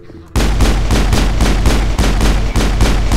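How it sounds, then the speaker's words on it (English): Pistol shots ring out aboard a ship in Mass Effect 1, coming in a loud, rapid, evenly spaced string of about eight reports after a short quiet start. "Oh, I can use my weapons on the ship. So I have my pistol, my gun."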